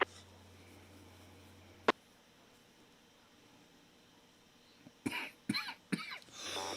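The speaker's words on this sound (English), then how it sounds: "Pardon me, coughing" A few sharp coughs near the end, close and loud in quick succession, after a mostly quiet stretch with a single click.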